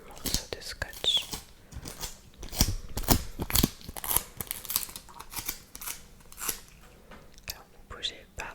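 Adhesive tape is cut and pressed on during an ASMR nurse roleplay of a blood draw, giving close crisp snips, crinkles and sticky tearing sounds in scattered bursts, with soft whispered speech between them.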